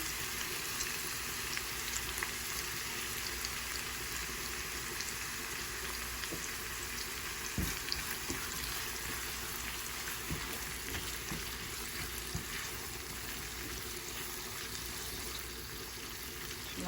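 Fried onions, red chili and ghee frying in a rice cooker give a dense, even hiss and crackle that holds steady throughout, with scattered faint pops.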